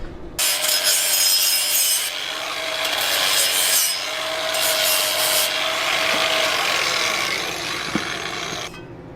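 Flap disc on an angle grinder cleaning up the end of a metal part on an old stepside truck, a loud continuous grinding rasp that rises and dips as pressure changes before the tool cuts off.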